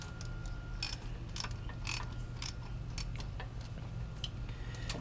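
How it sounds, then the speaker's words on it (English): A ratchet wrench works the bottom bolt of a starter motor on a Honda Civic, giving repeated quick metallic clicks in short bursts, close but fairly faint against a steady low hum. "I'll remove the bottom bolt first."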